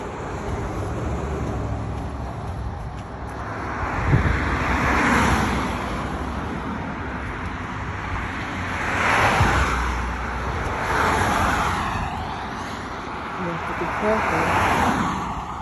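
Cars speeding past on a street beside a sidewalk, several loud swelling passes whooshing by one after another over continuous road noise.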